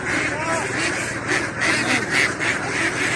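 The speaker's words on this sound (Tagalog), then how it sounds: "Natapos na rin namin bilangin itong mga itik namin." Crowded ducks keep up a loud, continuous quacking chorus close by, overlapping calls with slight swells, and people speak faintly among them.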